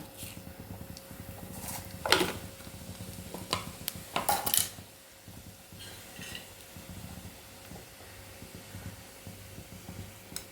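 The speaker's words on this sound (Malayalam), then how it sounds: "നമുക്ക് ഈ വെളിച്ചെണ്ണയിലേക്ക് ഇത് കടുകിന് പകരം നമുക്ക് ചെറിയ ജീരകം ഇടാം" Cumin seeds sizzle in hot coconut oil in a pan: a soft, steady frying hiss runs under loud, close stirring clatters and scrapes that bunch together early, then ease off, with no one speaking.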